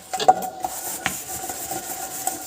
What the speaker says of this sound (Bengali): বাসনটা একটু মেজে নিই